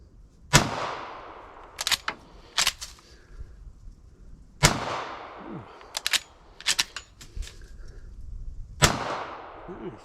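Three sharp rifle shots of .38 Special rounds from a GForce Saddlehorn .357 lever-action rifle, spaced about four seconds apart, each followed by quieter clicks and clacks of the action being worked.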